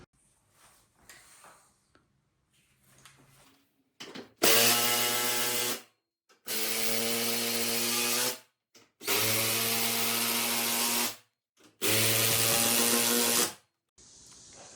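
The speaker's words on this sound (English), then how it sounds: "on my Bosch drill to remove rust off a skid plate" A Bosch cordless drill on a 4 amp hour battery whirs loudly in four sustained bursts of about two seconds each, removing rust from a metal skid plate, after some quieter handling and scraping sounds.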